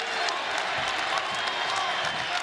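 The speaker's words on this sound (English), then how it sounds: "The crowd into it here in the Yum Center for really the first time tonight." Basketball crowd cheering inside the Yum Center in Louisville during a UTEP versus Louisville game, a dense steady roar of many voices filling the arena, heard under a play-by-play announcer's commentary.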